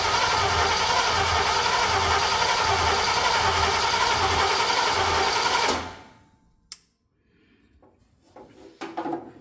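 A C30 engine runs with a steady, buzzing mechanical rhythm for about six seconds, then cuts out abruptly, leaving near silence broken by a few faint clicks and knocks.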